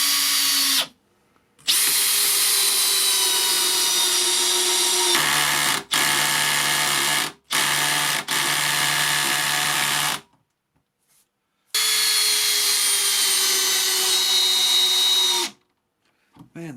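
A Makita hammer drill drives 14 gauge galvanized 75mm batten screws, producing long, loud, steady whines of a few seconds each, broken by short silent pauses, heard close and without speech.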